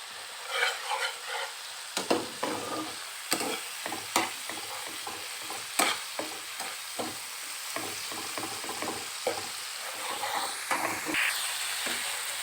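Spices and tomato sautéing in a pan with a little water, a close steady sizzle under repeated rhythmic scraping strokes of a spatula.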